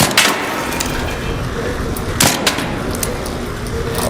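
Gunfire in the shooter video game ARC Raiders, a dense, loud, continuous burst with a few stronger sharp shots standing out, heard alone.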